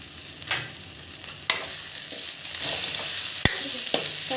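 Chicken curry masala with black pepper, cumin and chili powder is stirred in a frying pan, a soft steady sizzle broken by scraping spatula strokes and a sharp clack of utensil on metal, with no voices.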